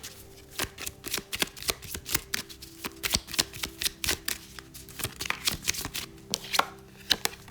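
Lenormand cards shuffled by hand in a fast, irregular run of crisp close slaps and riffles, with no talking.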